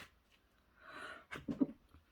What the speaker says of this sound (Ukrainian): Вибачте, чихнула направду.